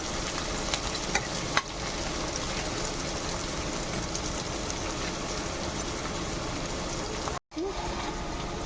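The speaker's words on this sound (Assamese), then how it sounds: "পিঁয়াজ দি দিলোঁ তেলত। তো অলপ মানে প্ৰথমতে পিঁয়াজখিনি ফ্ৰাই হৈ লওক" Onions frying in hot oil at the start of a mutton fry, giving a steady soft sizzle close by with light stirring, cut by a brief gap near the end.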